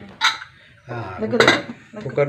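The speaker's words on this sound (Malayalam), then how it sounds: "മൂടി കൊണ്ടാണ് അടച്ചു വെക്കുന്നത്" A metal lid clanks onto a cooking pot during preparation of a vegetable and lentil curry, a few sharp metallic knocks and rattles in short bursts, close by, with a voice talking between them.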